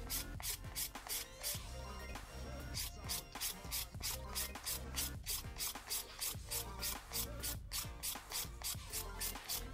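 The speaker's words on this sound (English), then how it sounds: "And I'm going to file over the top." A nail file rasps over an acrygel nail being shaped into a slight dome, giving quick, steady back-and-forth scratching strokes, close and fairly quiet, with no voices.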